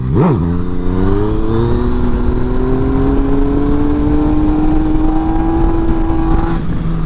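A Yamaha MT-09 motorcycle engine revs loud and close through a wheelie, pitch climbing in one long sustained pull before easing off near the end.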